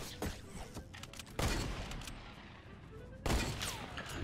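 Gunfire in the video game Fortnite during a trick-shot attempt: two loud, sharp shots about two seconds apart, each followed by a decaying rumble, with a few faint clicks before the first.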